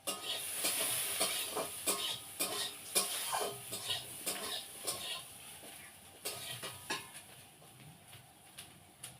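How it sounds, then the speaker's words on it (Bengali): Small cut potatoes fry in a pan with a soft continuous sizzle, broken by repeated light scraping and stirring taps of a utensil, fairly quiet overall. "এইদিকে দেখো আলু ভাজা ছোটো ছোটো আলুগুলো কেটে এই যে ভাজা করছি"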